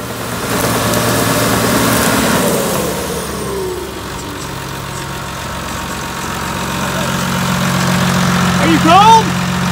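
A bulldozer engine runs steadily at a land-clearing site, a loud mid-to-low drone that shifts in pitch early on and then settles. Brief bird chirps come through near the end.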